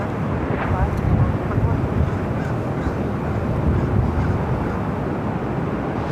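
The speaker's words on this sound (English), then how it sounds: "Also looks like we have Singapore, 777-300 ER, also heading up very north side at takeoff." A Singapore Airlines Boeing 777-300ER takes off from the north side of LAX, heard from a parking garage as a broad, steady jet roar with low rumble that holds for several seconds, plus faint wind and background voices.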